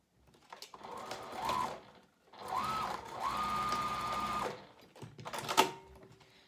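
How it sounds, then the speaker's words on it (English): A sewing machine stitches across the corners of a fabric foldover pouch in three close runs of rapid whirring, separated by short pauses and small clicks, with no one talking. "And now I'm just going to stitch right here to close the corners of the pouch using 1/4 inch seam allowance."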